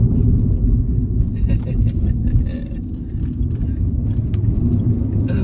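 A 2018 Smart Fortwo electric coupe is driven, with a loud, continuous low rumble of road and cabin noise that eases slightly partway through before building again.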